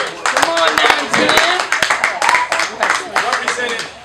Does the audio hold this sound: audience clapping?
yes